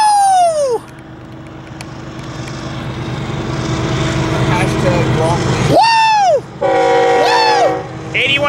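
BNSF and Union Pacific freight locomotives pull hard up Cajon Pass with a loud continuous engine roar, while multiple blasts of a train horn cut through, one sustained and others brief; people cheer over it.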